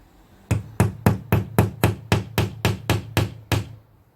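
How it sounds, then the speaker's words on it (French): A hammer drives a nail into a wall, eleven sharp, evenly spaced strikes about a quarter second apart, loud and close with no talk. "Le marteau."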